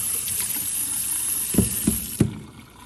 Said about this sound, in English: Okay, that's 30 seconds of rinsing.